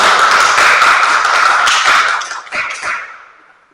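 A church congregation breaks into loud, dense applause that holds steady, then thins to a few scattered claps and fades out. No one speaks.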